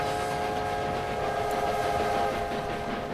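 A steam-era train pulls into Oxford station in the Railway Empire strategy game, a steady rolling rumble with a sustained whistle-like tone held over it, moderately loud and with no talking.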